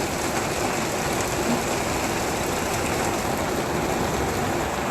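Rain pours down steadily, a dense, even, unbroken wash of loud hiss with no talking.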